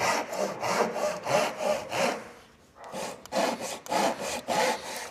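Hand saw cutting straight through wood in a beginner woodworking lesson, close and loud, with steady rhythmic back-and-forth strokes, a brief pause near the middle, then more strokes.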